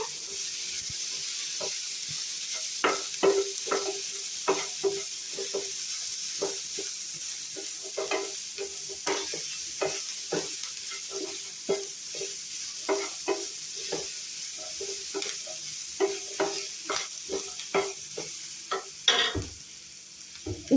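Green chilies frying with cumin in a pan for paneer masala, a steady hiss of oil under frequent rhythmic scraping strokes of a spoon stirring, close and clear, with no talking.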